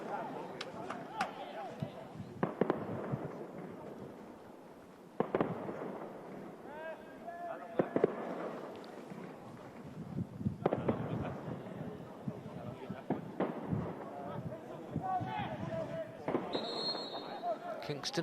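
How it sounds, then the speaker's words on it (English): Fireworks crackle and pop near a football stadium during a Chelsea versus Liverpool Premier League 2 match in Kingston, scattered distant bangs and crackles over a long stretch, heard under continuous commentary and crowd noise. "Kingston fireworks show."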